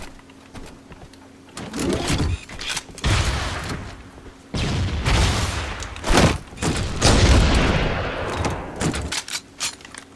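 Grenade explosions and gunfire in Halo CE on the Battle Creek map: a series of loud booming blasts and rattling shots in close succession, with constant game noise between them.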